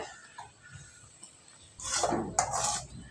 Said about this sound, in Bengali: তার জন্য আমি এখানে অর্ধেকটা ঢেলে নিচ্ছি অন্য পাত্রে।